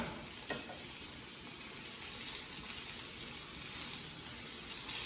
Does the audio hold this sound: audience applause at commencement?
no